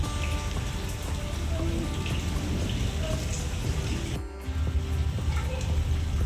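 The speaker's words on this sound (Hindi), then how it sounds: "बारिश आ रही है बाहर।" Steady rain falls outside a home during a heavy downpour, a dense continuous patter of drops on surfaces with brief dips, with faint background activity and no clear talk.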